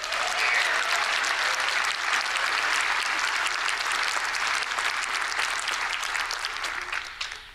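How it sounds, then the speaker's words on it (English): A large commencement crowd applauds graduating college seniors with dense, sustained clapping that holds strong and even, then gradually thins toward the end. "You deserve our applause as well"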